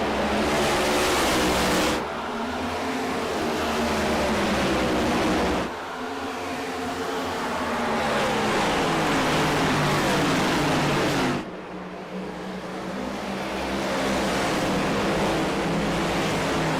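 A field of stock race cars roars back up to speed under green at Phoenix Raceway, a loud continuous engine drone with cars sweeping past near, rising and falling as the pack passes.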